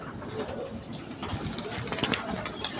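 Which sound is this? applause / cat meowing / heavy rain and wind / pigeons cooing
pigeons cooing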